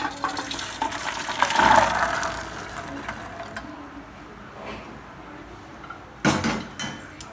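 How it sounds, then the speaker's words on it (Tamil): Water from boiled corn is poured off through a strainer with a brief splashing gush, then dribbles and drips more quietly, ending in a couple of sharp clatters. "இப்போ நம்ம வடிகட்டிக்கலாம்"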